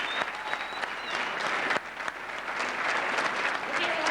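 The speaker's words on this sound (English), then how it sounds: "I want everybody to give a round of applause" Audience applause at a celebration of a boxer's fifth world title at a 2002 pro boxing event, a dense, sustained wash of clapping at moderate volume with a few voices mixed in.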